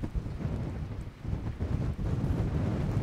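Strong wind blowing by the ocean, buffeting the microphone in a continuous loud rumbling roar with gusty surges and no voices.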